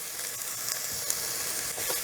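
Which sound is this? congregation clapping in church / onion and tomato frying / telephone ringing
onion and tomato frying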